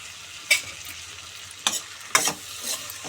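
Brinjals frying in a pan for a brinjal-tomato curry, with a soft continuous sizzle broken by three or four sharp scraping stirs of a spoon.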